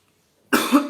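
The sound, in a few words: cough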